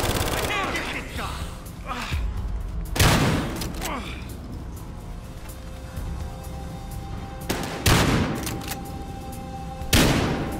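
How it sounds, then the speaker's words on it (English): Battlefield Hardline gunfire from the shooter campaign: sharp, loud shots in bursts around the third, eighth and tenth seconds, with scattered quieter pops and clatter between them. "I just shot him in the head"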